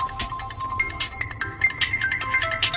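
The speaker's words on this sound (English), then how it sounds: "a call came into my phone immediately" An incoming call sets off a phone ringtone: a bright, fast melodic chime of quick repeated tones that plays continuously and fairly close.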